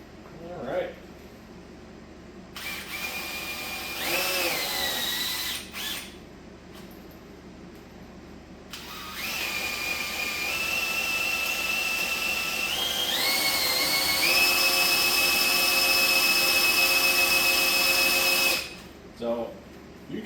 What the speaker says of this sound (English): you can hear the drill drag down and start working harder